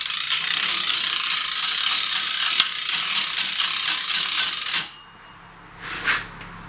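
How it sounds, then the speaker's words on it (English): A lift raising a John Deere X-Series riding mower gives a loud, steady rapid clicking of a ratchet mechanism for about five seconds. It then stops abruptly, leaving near silence and a brief faint clatter. "This way here I can lift the machine up a bit, get underneath with more space."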